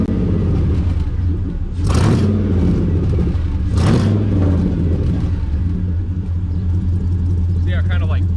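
LS-swapped Firebird V8 with a new exhaust revving twice in strong bursts over a steady, loud idle rumble, with a brief voice near the end.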